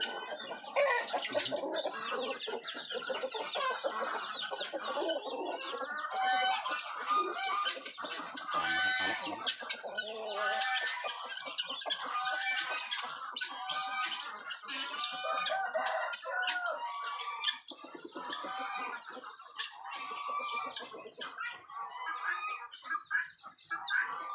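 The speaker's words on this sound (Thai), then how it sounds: "เดี๋ยวเราจะมาปล่อยไก่ ไก่แจ้ไก่เลไกไปด้วยนะครับ" Bantam chickens cluck busily after being let out, a dense, continuous chorus of close hen calls with occasional rooster crowing mixed in, steady and loud throughout with no talking.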